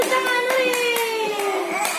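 A baby claps his hands in a quick run of sharp, close slaps, about eight in two seconds, under an adult's sustained sung or spoken voice.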